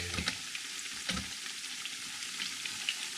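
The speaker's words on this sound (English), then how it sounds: "deep fry all your veg" Vegetables deep frying in hot oil give a steady, close crackling sizzle with a couple of louder bursts, and no voices.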